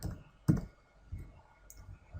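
Computer mouse clicking while working in SolidWorks CAD software, a few sharp, close clicks spaced irregularly over a quiet background.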